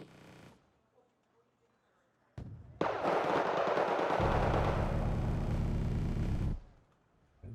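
Bombing run from an aardvark aircraft in a real-time strategy video game, a loud sustained roar of explosions and engine rumble lasting several seconds after a brief quiet lead-in, then cutting off.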